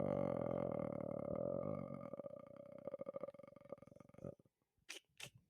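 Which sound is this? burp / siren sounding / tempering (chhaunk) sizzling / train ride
burp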